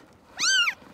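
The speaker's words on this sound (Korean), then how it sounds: "고양이 새끼들이네요" A single high, clear kitten meow, rising then falling, close by and lasting under half a second in a quiet setting beneath an office in a Busan village.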